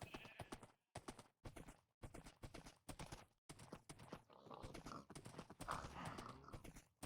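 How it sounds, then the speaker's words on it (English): A horse's hooves clip-clop in a steady walking rhythm inside a Hexcraft video game pen, with an occasional whinny, heard at close range. "there's a horse in here"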